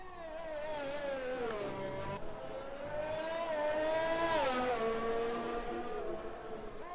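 A Formula-style race car in a racing video game at a Canada circuit drives its out lap, its engine a smooth, sustained high-pitched whine that rises and falls through gear changes, loud and steady throughout.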